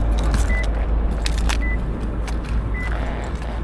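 A car key on its ring jangles in steady metallic clinks close by, fairly loud over a low, constant hum from the car, with no talking.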